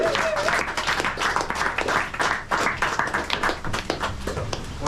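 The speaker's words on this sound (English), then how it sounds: "What lovely applause." A live comedy-show audience applauds comedians walking onto the stage, with loud, dense clapping from many hands across about five seconds that swells and ebbs slightly.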